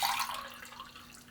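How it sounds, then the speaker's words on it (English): Water pours steadily into a container during a Protocel preparation, a brief continuous splashing trickle that fades slightly toward the end, close and alone with no talking. "I'm going to put the water right in there."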